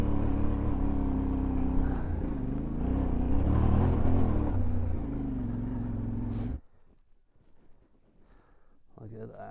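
A Yamaha Tenere World Raid's CP2 engine lugs at low revs up a bulldozed off-road hill, a loud, steady, deep throb that cuts off abruptly after about six seconds into near quiet.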